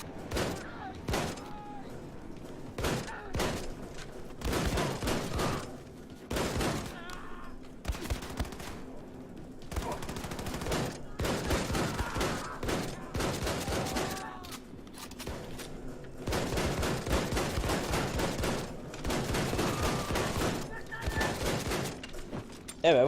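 Rapid bursts of gunfire from the video game Wolfenstein II: The New Colossus, including a pump-action shotgun, crack repeatedly in dense clusters throughout, with short pauses between volleys and occasional voices underneath.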